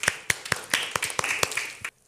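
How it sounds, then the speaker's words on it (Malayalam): Children clapping on a host's cue at the close of a Malayalam children's TV programme: a quick run of about nine sharp, fairly close claps at a steady rhythm, with no voices, stopping abruptly. "ഒരു ബിഗ് ക്ലാപ്പ് കൊടുത്ത മക്കളെ"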